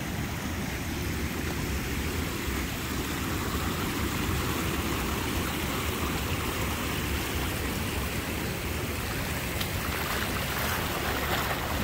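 A shallow natural stream flows steadily over flat stone slabs, a constant close rushing wash of water with no pauses.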